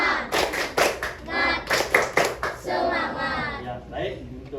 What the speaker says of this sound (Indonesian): mari kita lakukan tepuk semangat